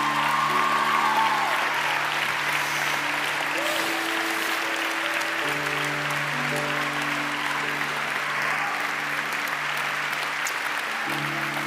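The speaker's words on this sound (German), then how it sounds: "Applaus, Leute, Applaus." Sustained applause from a church youth event audience fills the hall, steady and dense throughout, with organ or keyboard chords sustained underneath.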